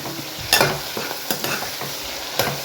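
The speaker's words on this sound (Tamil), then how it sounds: "இங்கே பார்த்திங்கன்னா வெங்காயம் தக்காளி வெந்துட்டுருக்கு" Onions and tomatoes cooking in a pan for a mutton gravy, with a soft continuous sizzle and a few louder scraping stirs of a spoon against the pan, close by.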